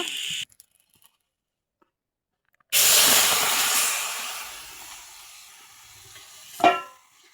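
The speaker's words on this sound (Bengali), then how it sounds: "এখন আমি সিমগুলো দিয়ে দিব" A loud burst of sizzling hiss as flat beans hit a hot wok, then a steady crackling fry that slowly fades, ending with a brief clatter.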